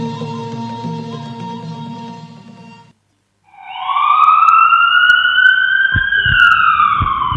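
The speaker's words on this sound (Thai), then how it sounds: "เมื่อได้ยินเสียงสัญญาณไซเรนแล้วพบรถฉุกเฉินกำลังปฏิบัติหน้าที่" A steady tonal hum gives way to a brief silence, then a loud emergency vehicle siren wails, its pitch sweeping up and holding high.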